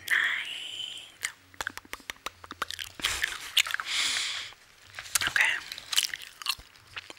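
Soft, wet gum chewing close to the microphone in an ASMR reading setting, irregular smacks and squishes coming in bursts between quiet whispered talk.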